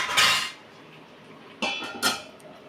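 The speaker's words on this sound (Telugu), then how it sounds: "ఇది వేడిగా ఉందని నీళ్ళల్లో వేస్తున్నాండి" A hot piece of boti curry dropped into water, giving a brief clattering splash near the start and two more sharp clinks a moment later against a metal vessel, close and alone without talk.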